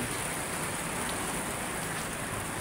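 Steady rain falls over Manila Bay as an even, dense hiss of drops on surfaces, moderately loud and unchanging throughout, with no voices.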